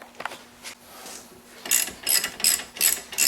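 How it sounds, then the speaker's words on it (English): A hand ratchet with a 17mm socket tightens a strut bolt on a Mazda 3, giving a few faint clicks followed by a quick series of loud, close ratcheting bursts in an uneven rhythm. "I'm actually just going to use a hand ratchet and my 17mm socket to tighten this"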